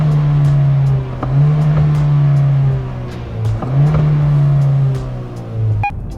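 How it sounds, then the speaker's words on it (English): A 2020 Kia Soul accelerates from inside the cabin, its engine giving a steady, droning hum that dips briefly and rises again, likely at gear changes, loud and close, with a faint click near the end. "I'm not that keen on the exhaust note."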